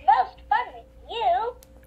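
A Baby Gund Flappy the Elephant plush toy plays its electronic voice sound: three short, bright, chirpy spoken phrases, close and clear over a quiet background.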